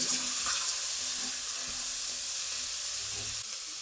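Two large onions, about three cups, sizzle steadily in a hot pot over medium heat, a continuous bright hiss that stays loud and even throughout, with a few faint clinks of stirring.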